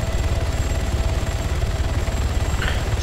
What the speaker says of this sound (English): are you flying this chopper?